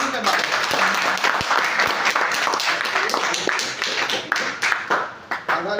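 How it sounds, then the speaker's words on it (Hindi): A loud round of applause from an audience honouring a father, with dense, close clapping and sharp individual claps that thins into scattered hand claps near the end, with voices mixed in. "आप लोग पहले उस पिता के लिए एक जोरदार ताली बजाइए"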